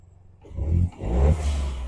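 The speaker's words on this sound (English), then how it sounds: "Now I'm just going to give it a little rev." A 2021 Volkswagen Up GTI fitted with a Milltek sports exhaust gets two short revs, the engine note swelling up, dipping briefly, then rising again and holding at a steady, fairly loud level close by.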